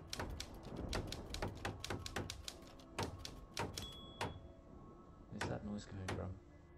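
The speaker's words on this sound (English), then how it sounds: "So I'm assuming he's boarding up the windows" Boarding up windows in the PC game The Shattering: a rapid run of sharp, close hammering knocks, some in quick bursts, with a short tonal ding, and a person talking over the clatter.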